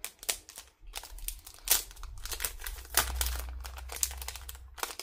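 Small parcel package torn and crinkled open by hand, dense plastic and paper crackling in quick bursts, close and fairly loud, with no voices.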